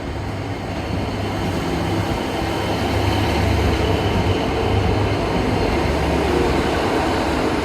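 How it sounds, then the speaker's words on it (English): Small local train to Newton rolling along, a steady rumbling clatter of wheels on track with continuous carriage noise, heard from inside at a constant moderate loudness. "This is my little train to Newton."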